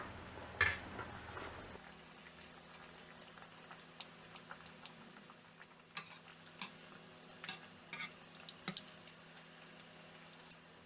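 Thai shrimp cakes deep-fry in hot oil, giving a faint, low bubbling with scattered soft crackles and pops across a quiet kitchen.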